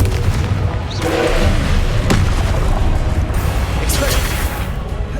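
The Confringo blasting curse in the Hogwarts Legacy video game sets off loud booming explosions amid a continuous roar of battle, with sharp bursts near one and four seconds and spell-casting voices under it.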